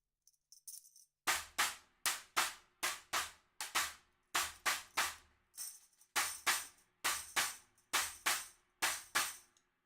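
A stacked cymbal is struck on its own without a jingle, live on a drum kit, with short, trashy, bright hits that decay quickly, repeating in a steady groove of about twenty strokes, close and alone.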